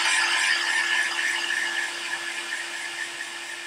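Steady whirring blower, like a hot air tool or dryer, held on wet wood, a constant hum with a faint tone that eases slightly in loudness toward the end.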